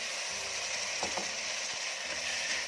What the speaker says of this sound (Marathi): तर रंग बघा किती सुंदर दिसतोय ते छान तेल सुटेपर्यंत भाजून घ्यायचं आहे